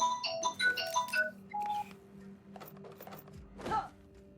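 A phone in The Outer Worlds rings with a quick, quiet melody of electronic tones at the start, followed by a single held beep, soft thuds and a brief rustle.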